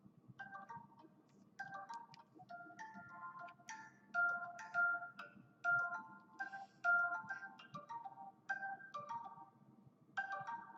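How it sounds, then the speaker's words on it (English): An old phone ringtone plays alone: a repeating electronic melody of short tonal bursts in a steady rhythm, fairly loud and close over a low background hum. "My ringtone used to be this."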